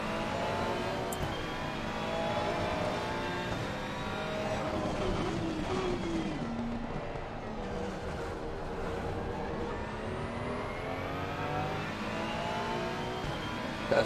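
A GT4 race car engine in the video game Assetto Corsa Competizione, droning and revving with rising and falling pitch as it accelerates and shifts, steady and fairly loud throughout.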